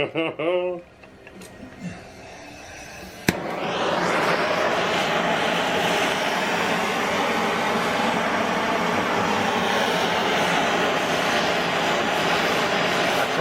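MAPP gas torch heating a stuck part on a Chevy 4.3 V6 engine during disassembly, a sharp ignition pop followed by a steady close roaring hiss, with brief talk just before it lights.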